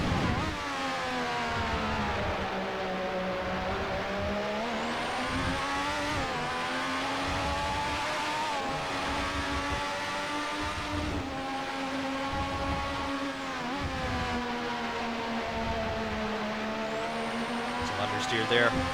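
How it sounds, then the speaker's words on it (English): A Williams FW11B turbo Formula One car in Assetto Corsa howls at high revs, its engine note dropping sharply in several quick downshifts and climbing again between them, with a commentator talking over it. "downshifts, as you can see, are also very quick"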